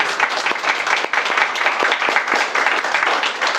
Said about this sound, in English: let's give the Lord Mayor a huge round of applause